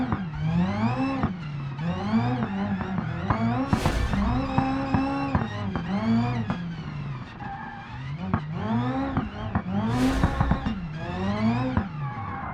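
A car drifting in the BeamNG driving game, its engine revving continuously while the tires squeal in two long sweeping bursts, loud and close with no talk.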